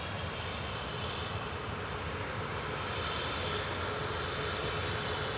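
Ryanair Boeing 737 Max 8 jet airliner departing Manchester Airport for Rome, a steady broadband engine roar heard from a distance and holding constant throughout, with no voices.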